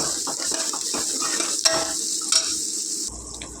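Ginger garlic paste fries in a pan with a loud, close sizzle, broken by the scrape and clink of a spoon stirring against the metal, and the frying dies down toward the end.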